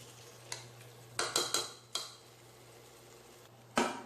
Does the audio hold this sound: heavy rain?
no